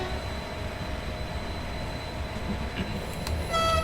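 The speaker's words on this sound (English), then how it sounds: "The horn's actually good as well." A FLIRT Express electric multiple unit in Train Sim World 2 plays continuous train running noise under a steady tonal hum, and a short two-tone horn sounds near the end, loud and close.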